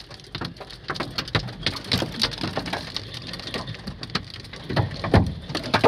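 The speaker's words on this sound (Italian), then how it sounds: "la grandine è grossa come mandarini sto giro." Heavy hailstones the size of mandarins pelt down hard and irregularly, sharp cracking impacts rattling on surfaces amid a dense, steady roar, close and loud.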